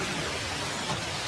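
Cartoon rain falling as a steady, dense hiss with no pauses or other sounds.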